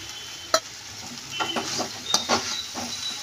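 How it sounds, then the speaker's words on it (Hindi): Potatoes and peanuts roasting and being stirred in a pan for a fasting-day snack, with crisp scraping and light sizzling in a few close bursts and no talk. "दो मिनट और भून लेते हैं हम इनको।"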